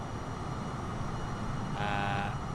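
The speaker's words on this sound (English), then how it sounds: "I'm getting drowned out a bit by the engine noise" A Cessna Citation CJ4 jet engine in Microsoft Flight Simulator 2020 gives a steady, dense whooshing hum, with a short buzzing tone breaking in near the end.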